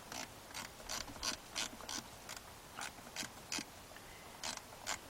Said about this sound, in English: I got my ratchet and 1/4 inch wrench